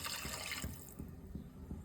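Water poured from a cup into a pot of soaking basmati rice for egg biryani, a bright splashing gush for the first half second that fades into soft trickling and light drips.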